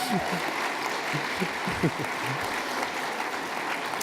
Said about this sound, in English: Big round of applause for Savannah.